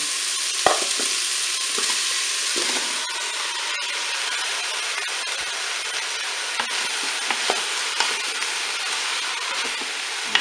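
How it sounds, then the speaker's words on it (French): Vegetables for a ham and vegetable potée added to a hot Cookeo pot, a loud, steady sizzle with scattered clicks and scrapes of stirring throughout, no speech. "On va ajouter maintenant tous nos légumes."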